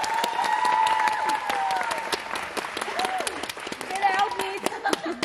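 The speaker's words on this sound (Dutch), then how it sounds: "Dan gaan we nu klappen voor Team Tink!" A live show audience in Bergen op Zoom claps for a quiz team, with dense applause and sharp claps mixed with crowd noise, excited voices and cheering on top.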